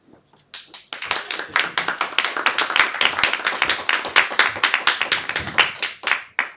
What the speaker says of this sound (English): So warm applause for Maciej